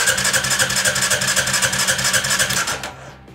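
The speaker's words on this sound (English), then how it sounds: "As you can hear, guys, I'm getting enough juice out of the jump starter, but I'm having some other issues with the four-wheeler." Four-wheeler engine cranking over on power from an Awanfi multi-function jump starter, a loud rapid rhythmic chugging of the starter motor that runs steadily for nearly three seconds and then cuts off without the engine catching.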